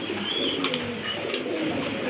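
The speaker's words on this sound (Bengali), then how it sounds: "দেখতে পাচ্ছেন বহুত কবুতর আছে" Pigeons coo in low, throaty murmurs, several overlapping calls close by, with soft rustling and ambient noise throughout.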